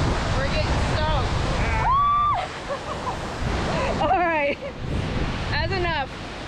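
A powerful waterfall at Mt Rainier National Park roars as a steady, close wash of spray, with excited voices talking over it throughout.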